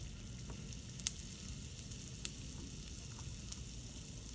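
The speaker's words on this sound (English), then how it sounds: "I'm adding about 2 teaspoons of oil, a little bit of hing, my favorite spice." Oil with a pinch of asafoetida sizzles steadily in a pan over medium flame, a continuous close frying hiss with a couple of sharp crackles, no voices.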